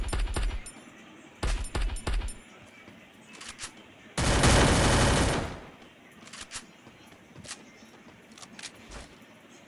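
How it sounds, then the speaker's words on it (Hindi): A VSS rifle fires in Free Fire, with a few sharp separate shots early and a dense burst of gunfire in the middle, loud and near, plus scattered clicks and a voice talking. "ये गन मिली है VSS जो सबसे बुरी लगती है मुझे. खैर इसी को चलाना पड़ेगा."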